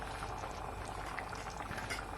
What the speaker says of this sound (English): You don't want your rice to burn or to cook so fast. You want it to simmer down.